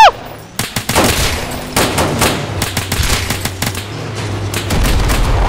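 Rapid bursts of automatic gunfire and scattered single shots crackle through a video game firefight in a South London setting, loud and close, with a low rumble underneath and no voices.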